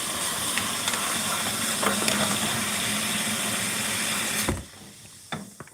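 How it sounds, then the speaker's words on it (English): Tap water runs and hisses steadily while sticky batter is rinsed off dishes, then cuts off abruptly near the end, leaving a few faint clinks. "Since the batter is so sticky, I'm just trying to rinse some of it off before I have to wash"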